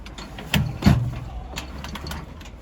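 A swivelling seat in a VW camper van turns on its mechanism, giving two brief, soft mechanical clunks close together over a quiet background.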